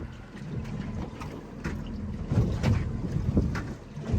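Gusty wind buffets a net-fishing boat on the water during salmon fishing near Astoria, Oregon, a rough, rumbling roar with knocks and bumps from the hull, loud and close.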